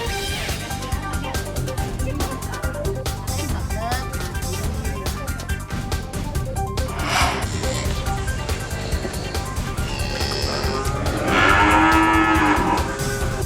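Cattle on an Indonesian farm in Lampung moo several times over a steady, dense background of music and ambient noise, with the loudest drawn-out low call near the end.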